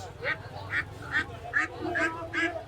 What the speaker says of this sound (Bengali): এই যে এখানে দেখতে পাচ্ছেন চমৎকার কিছু পাতি হাঁস